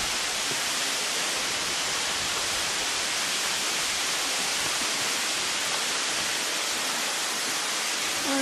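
A steady, loud roar of falling water at Tat Yai waterfall, Phu Pha Man, Thailand, fills the whole clip, constant and broad, with no voices.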